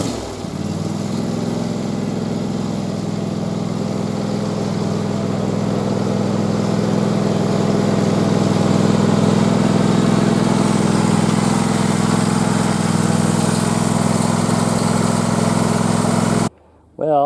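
A Husqvarna lawn mower engine runs steadily and fairly loud nearby for most of the stretch, then cuts off abruptly near the end.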